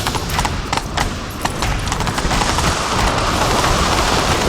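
Loud, fast hoofbeats of a galloping horse in the video game The Witcher 3: Wild Hunt, rapid and continuous, blending into a rushing wash of noise.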